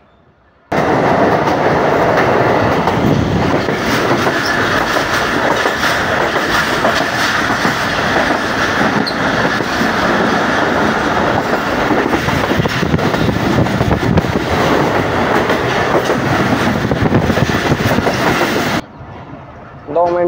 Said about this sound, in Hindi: गाड़ी रवाना हुई है हमारी कोट लखपत रेलवे स्टेशन से